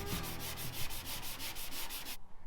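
Steady rhythmic sanding strokes, close and fairly loud, repeating about every fifth of a second before stopping abruptly; no voices.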